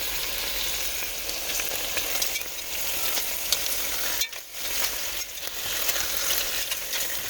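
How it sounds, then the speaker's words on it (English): Hot oil crackles and spits steadily in a pan heated for browning oxtails, a loud continuous sizzle with frequent sharp pops and a brief dip partway through. "the oil is hot and popping too much"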